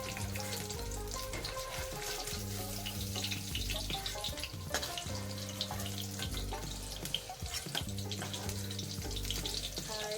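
Continuous sizzle of paneer frying in a pan, a busy crackling hiss layered with faint background tones and occasional clatter.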